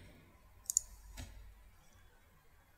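Mouse clicking in Hirender S3 software: a couple of faint, close clicks followed by one more, in a quiet room.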